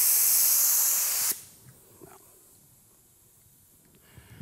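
Paint spray gun making a single pass in an automotive painting demonstration: a loud, steady broadband hiss that cuts off abruptly, leaving near silence with faint faint clicks.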